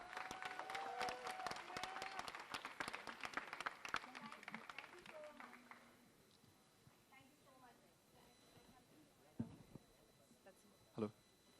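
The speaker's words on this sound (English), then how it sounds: "Clap it out." Dense audience clapping at the opening ceremony of an advertising expo in Mumbai, loud and steady for several seconds before thinning out, with faint crowd murmur and a couple of isolated thumps near the end.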